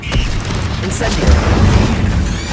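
Incendio fire spell cast in Hogwarts Legacy, a loud continuous burst of whooshing flame with booming low rumble and crackle throughout, layered with dense game effects.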